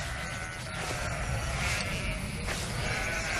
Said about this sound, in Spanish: el mejor método para conservar los campos abiertos es el uso de ovejas